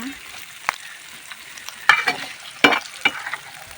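Paneer curry ingredients lightly frying in oil, a quiet low sizzle broken by a few sharp spoon scrapes and clatters against the pan.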